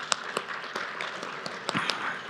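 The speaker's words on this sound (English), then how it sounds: "I just want to give them a round of applause." Audience at an allyship award event applauding, a thin scattering of sharp, uneven claps from a modest crowd in an indoor hall, fairly soft and sustained.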